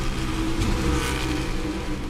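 A NASCAR Cup Series car's engine at full throttle during a race at the AutoTrader EchoPark Automotive 400, a loud, steady roar that holds without lifting for about two seconds.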